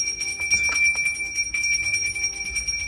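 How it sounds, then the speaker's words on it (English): A small jingle bell rings indoors in a dining room decorated for Christmas, a steady bright shimmer of tinkling that continues throughout, close and clear with no talking. "A jingle bell."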